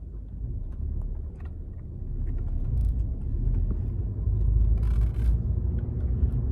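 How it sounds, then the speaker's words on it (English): A tuned 10th-generation Honda Civic hatchback Sport with a Cobra intake drives through city traffic, its engine a low steady rumble heard from inside the cabin, gradually growing louder. "you could also hear the fucking Cobra intake 10 times louder now too"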